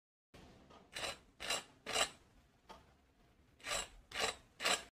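Seven sharp, dry crunches in two clusters, close and loud, from biting into a crispy fried sabudana vada, with no talking.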